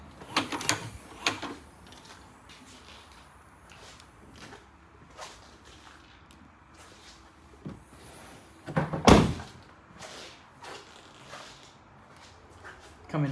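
The boot of a Nissan Qashqai 1.2 DIG-T is opened in a quiet setting: a few soft clicks and handling noises lead to one sharp, loud latch clunk, followed by lighter knocks.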